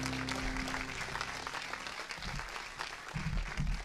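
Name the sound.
applause from church congregation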